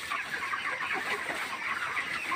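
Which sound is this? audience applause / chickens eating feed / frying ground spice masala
chickens eating feed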